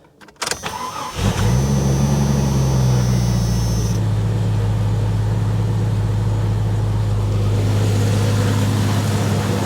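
A cheap old Jeep cranks and fires up after a pre-road-trip tune-up, then settles into a steady, loud idle with a constant low engine hum and a high whine that stops partway through.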